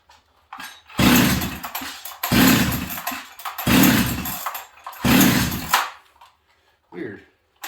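Husqvarna 385 chainsaw with a suspected air leak at the base gasket or intake, fired in four loud bursts about a second apart that sputter out each time as the engine fails to start, with a short quieter attempt at the end.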